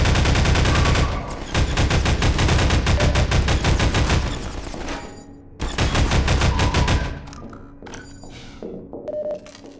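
Rapid bursts of automatic gunfire aimed at a turret in the video game Prospekt, loud and dense, breaking off briefly mid-way and then resuming before trailing into quieter clatter, with no talk.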